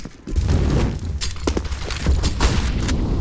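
Grenade blast in CS:GO on the Vertigo map, a heavy boom followed by crackling debris and scattered gunshots, loud and close.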